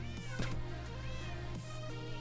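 A cat meows in the video game Minecraft, a couple of short, tonal calls in quick succession over a steady background drone of game sounds.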